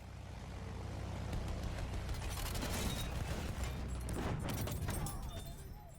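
A Torpedo Bomber plane in Battlefield 1 drones with a steady, loud propeller engine roar that swells and holds, with scattered mechanical clatter and impacts layered over it.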